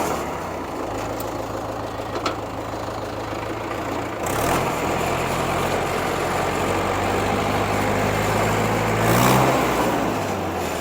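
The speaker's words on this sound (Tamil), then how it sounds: "டிராக்டரோட பிரேக் பர்ஃபார்மன்ஸு இப்போ ஃபஸ்ட் கியரில் எந்த அளவுக்கு ஸ்பீடு போகுது எல்லாமே காமிக்கிறேன் பாருங்கள்" A Trakstar 550 tractor engine chugs steadily in first gear, a low continuous diesel rumble that swells louder midway, with a few clanks and no speech over it.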